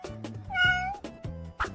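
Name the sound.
cat meowing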